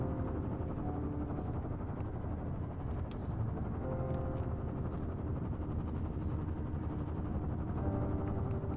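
Helicopter in the video game Firewatch, a steady broad rotor-like roar holding at constant loudness throughout, with no talking over it.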